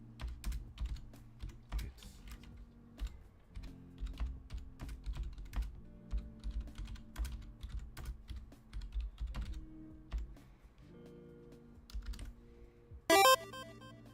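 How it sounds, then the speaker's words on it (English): Fingers typing on a computer keyboard in a quiet room, a dense run of close, crisp clicks in bursts with short pauses, ending with a brief electronic tone. "I'm just typing everything in."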